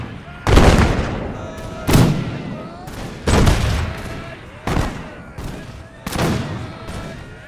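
Musket volleys from massed Imperial Russian and Arab troops in a strategy game battle, five loud booming volleys spaced roughly a second and a half apart, each trailing into rumbling echoes.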